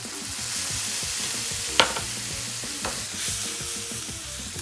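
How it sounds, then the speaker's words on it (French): Garlic deglazed with vinegar in a hot pan gives a steady, dense sizzle, with two sharp clicks of the pan or utensil standing out near the middle. "On déglace donc au vinaigre"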